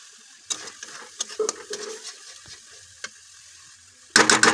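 Malabar spinach being stirred in a frying pan, with soft scraping and rustling strokes over a low sizzle, a few sharper clinks, and a loud burst of sizzling at the end.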